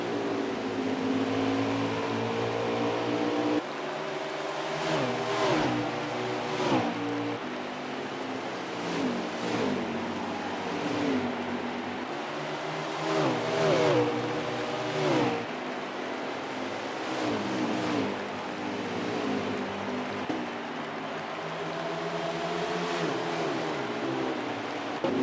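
Race cars roar around the track at a Bristol Xfinity race, with engines rising and falling in pitch as they pass, a continuous loud drone with repeated surges.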